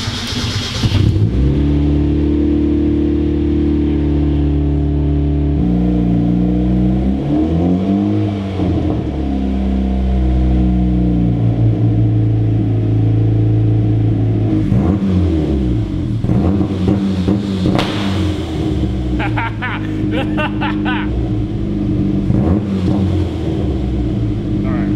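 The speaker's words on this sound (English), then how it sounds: "So now let's set up launch control and see if this works." A turbocharged Mazda Miata engine held on launch control: loud sustained revving that repeatedly bounces against the limiter with crackling pops, rising and falling over several bursts, close and dominant.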